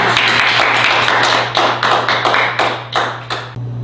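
Audience at a Korean speaking lecture claps in loud, fairly synchronized bursts, roughly a dozen distinct claps in a rhythmic pattern close by, over a low steady hum, ending abruptly.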